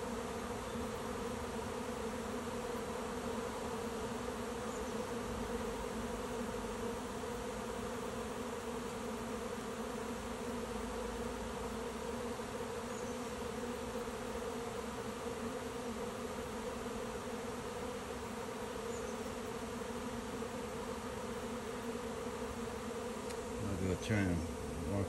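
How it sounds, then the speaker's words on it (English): A dense swarm of honey bees buzzes continuously and loudly all around at a swarm trap, a steady droning hum with no talking. "Just kind of got to walk through the bees."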